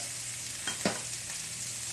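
Chicken frying in a pan on a stovetop, with a steady sizzle and a couple of brief scraping stirs, heard up close with no talking.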